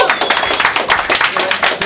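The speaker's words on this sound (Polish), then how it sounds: "Wielkie brawo!" Rapid, dense clapping from an audience at a vape event in Olsztyn, Poland, applauding a sponsor, with cheering voices mixed into the short burst.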